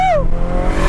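Mitsubishi Lancer Evo VI engine revving hard through a gear shift, a loud close roar with pitch dropping briefly at the shift, then a sustained throaty drone.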